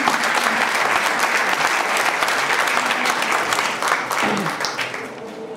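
An audience applauds warmly at a cultural week event honoring a teacher, a full and steady wash of clapping that holds evenly, then dips and thins toward the end as voices faintly surface.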